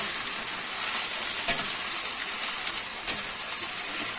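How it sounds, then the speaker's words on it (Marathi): Fenugreek leaves (methi bhaji) stir-fried in a hot pan: a steady, close sizzle with two brief louder stirring scrapes partway through, no voices. "भाजी व्यवस्थित परतून घेऊया."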